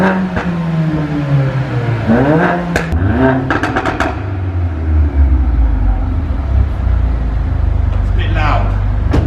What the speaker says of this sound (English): I'm in an underground car park with a Remus exhaust. It would be rude to not give it a quick rev